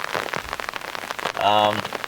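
Heavy rain pours steadily on a surface, a dense continuous hiss with a brief tonal burst partway through, under faint background voices.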